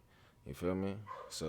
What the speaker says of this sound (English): Excuse my dog in the back.